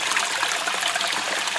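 Water pours steadily into a home fish tank holding goldfish during a water change, a continuous close splashing trickle with no talk.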